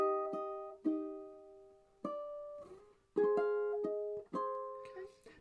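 Ukulele played fingerstyle on a section of a song using barre chord shapes, with several plucked chords ringing out one after another in a slow, clear rhythm, close and alone.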